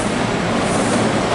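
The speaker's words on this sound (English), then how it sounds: "Here comes the train to Warminster." A SEPTA Warminster Line train of Silverliner 5 cars rumbles into Suburban Station with a loud, continuous roar of wheels and motors, close and steady with no talking.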